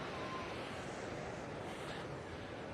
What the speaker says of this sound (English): there's a weir to slow the speed of the water down, which just flows across here